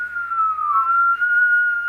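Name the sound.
person trying to whistle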